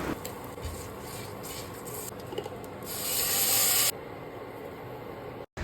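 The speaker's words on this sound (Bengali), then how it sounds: "এখন একটু ফোড়ন দিয়ে দেবো" Spices tempering in hot ghee for mung dal in new cookware, a soft hiss and sizzle that swells into a louder spitting burst for about a second before dropping back to a gentle fry, with no speech.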